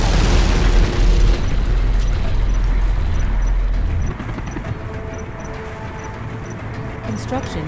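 A particle cannon superweapon fires in Command & Conquer Generals: a loud, dense rumbling blast that roars for about four seconds, then drops to a lower, steady roar with faint in-game sounds.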